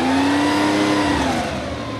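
A 1973 Porsche 911 RS Touring's air-cooled engine revs loud and close, its pitch climbing and then easing back in one sustained pull with no one talking.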